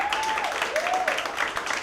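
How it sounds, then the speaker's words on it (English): Dense applause and clapping from a stand-up comedy audience fills the space, with a faint voice whooping over the noise. "Round of applause if you have a daughter."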